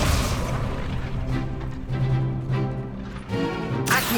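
Fire spell cast in the video game Hogwarts Legacy, a loud whooshing burst of flame followed by rumbling booms, with another sharp blast near the end, dense and continuous throughout.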